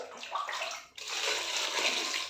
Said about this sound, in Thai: ใส่น้ำครับ